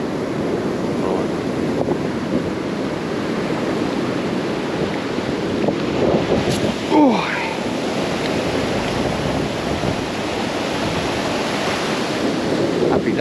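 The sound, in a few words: sea waves breaking on Southbourne beach, Dorset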